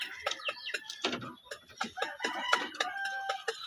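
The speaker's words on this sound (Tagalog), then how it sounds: "May sisiw doon. Ay, manok. Ito pala yung mga sisiw." Chickens and chicks on a Philippine farm, a dense close chorus of clucks, cheeps and short squawks overlapping continuously, with no talking.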